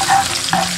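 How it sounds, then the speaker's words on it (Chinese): Garlic whites and ginger shreds stir-fried in oil in a wok, a steady close sizzle with a couple of scraping stirs, no voices. "下入蒜白、姜丝炒香"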